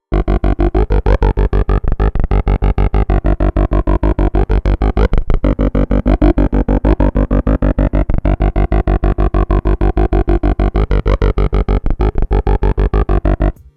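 An UNO Synth Pro plays a sequenced psychedelic trance bass line without effects: a loud, fast, relentless run of evenly spaced notes with a filter sweeping slowly up and down, continuing alone until it stops abruptly.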